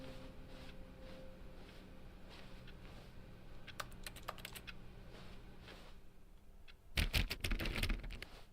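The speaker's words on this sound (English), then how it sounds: "I don't know what I was typing on there." Rapid key clacking on a computer keyboard in the video game The Stanley Parable sounds in scattered bursts and then turns louder and more frantic toward the end, all over a quiet room hum.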